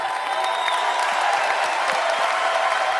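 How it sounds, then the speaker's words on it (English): Steady, dense applause from a live television studio audience fills the room without a break, loud and close, with a faint cheer or two mixed in as a nurse is welcomed on stage. "Give Jennifer a big round of applause."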